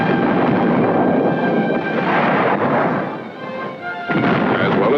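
A tank gun fires on a test range during 1960s weapons trials, heard as a loud, sustained booming roar with rumbling low end that dips briefly before surging again.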